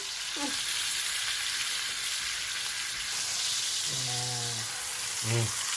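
Pork browns in butter in a pan for sauerbraten, a steady loud sizzle and hiss throughout, with brief bits of people talking breaking in near the end.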